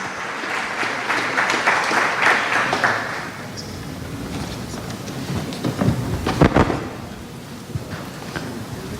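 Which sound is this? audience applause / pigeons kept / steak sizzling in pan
audience applause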